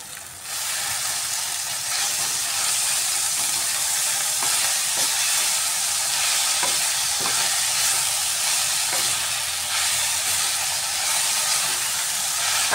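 Chopped spinach is stirred into softened onion and tomato frying in a pan, giving a continuous loud sizzle with repeated scraping stirs throughout.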